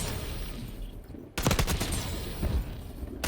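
SMG gunfire in Black Ops 6, a loud rapid automatic burst starting abruptly after a quieter lead-in, followed by a second short burst near the end, close and without talk.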